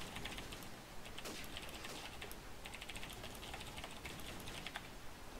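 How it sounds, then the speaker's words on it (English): Steady, rapid typing on a computer keyboard with dense clicking keystrokes running continuously throughout, close and fairly quiet, with no voices. "Well, I can keep typing."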